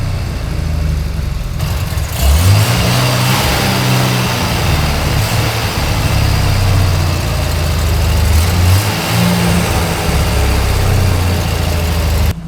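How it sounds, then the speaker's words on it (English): A 1983 GMC Squarebody truck's six-cylinder engine with a brand-new turbo runs steadily in a shop, its deep, loud idle rumbling continuously with a few brief swells in revs. "brand new turbo. The exhaust housing's gotta warm up, but she's running like a top"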